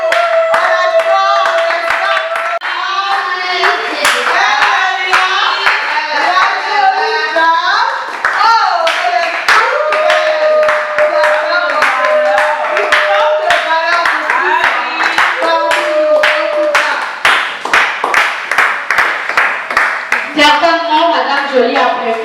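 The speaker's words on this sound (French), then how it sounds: "sous vos ovations, sous vos acclamations" Audience at a conference clapping and cheering as someone speaker is welcomed on stage, with dense, loud, sustained applause throughout and excited voices and shouts mixed in.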